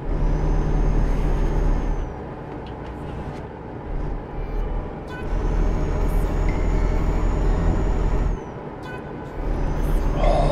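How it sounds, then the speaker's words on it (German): A train rolls past in Euro Truck Simulator 2, a loud steady rumble of wheels on rails with high squealing brake tones that rise and cut out in waves. "Oh, Züge."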